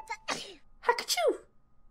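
A person sneezes twice in quick succession, close and moderately loud, with a short windup before the first and a sharper, higher second sneeze, against a quiet indoor background.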